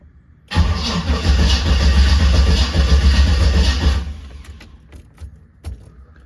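An OBS truck engine cranks and catches, running loud and rough for a few seconds before cutting off, followed by a few faint clicks and clunks.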